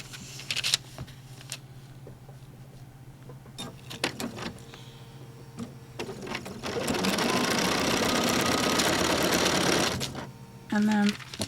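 Sewing machine stitching through a scrap quilt made from adding machine tape, scattered clicks and handling sounds, then a steady whirring run of several seconds, a brief pause, and a short burst, with a voice heard in places.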